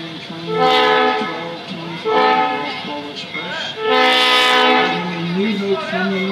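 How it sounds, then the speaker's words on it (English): A train horn blares in several loud, sustained chords as the train pulls into a station, with engine rumble beneath and a faint announcement-like voice in the background. "Now arriving on track number one from the North Pole."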